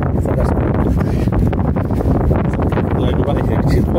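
Strong wind buffeting the microphone beside the River Usk, a steady loud roar and rumble filling the whole clip with no pause.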